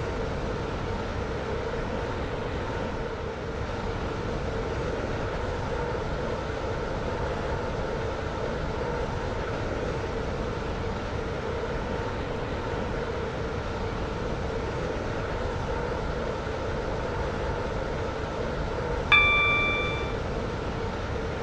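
Stepford Connect train in a railway video game, a steady loud rumble of the running carriage throughout, with a short bright chime ringing out near the end.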